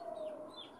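Young chickens clucking, a short soft call from close by over low background noise, brief and fading out.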